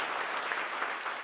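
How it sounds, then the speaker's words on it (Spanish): A crowd applauds award winners at a rodeo federation honours ceremony, a continuous wash of clapping at even, moderate loudness. "Un aplauso para todos ellos."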